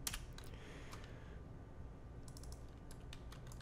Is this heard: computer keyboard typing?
yes